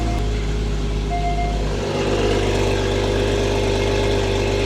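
Porsche GT4 engine idling steadily, a close, even low rumble with a constant hum and no revs, running alone without talk.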